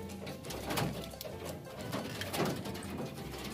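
Nearby pigeons give soft, low, repeated coos in loose pulses, with faint rustling and background room sound around them and no talking.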